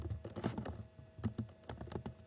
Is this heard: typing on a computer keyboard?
yes